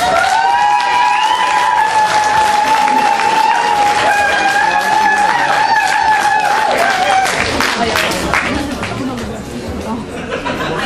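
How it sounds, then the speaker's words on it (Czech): The audience at the Miss Krkonoše 2010 beauty pageant gives big applause for the first runner-up, a steady, loud wash of clapping with chatter and a few cheers, easing slightly toward the end. "Prosím, veliký potlesk"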